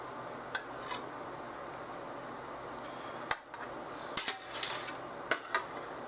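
Barbecue chicken pizza served up with a golden spatula, scattered clinks and scrapes of metal against a pan at close range over a quiet room hum.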